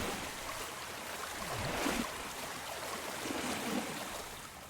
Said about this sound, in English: is there a waterfall? What am I hearing? It's just me swimming.